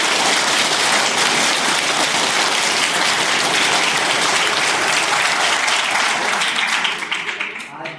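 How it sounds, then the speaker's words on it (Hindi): Children at a school event clap loudly together, a dense, sustained burst of applause that carries on steadily for several seconds before thinning out near the end. "मेरे साथ जोरदार अपने लिए तालियां बजाओ"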